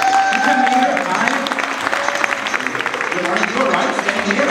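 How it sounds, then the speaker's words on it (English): Audience applause for ladies called up on stage at a future-themed event, clapping mixed with voices and crowd movement, with a brief tone early on. "Give an applause for the ladies"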